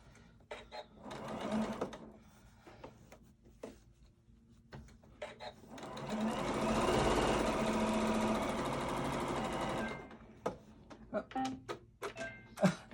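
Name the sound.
sewing machine sewing a face mask seam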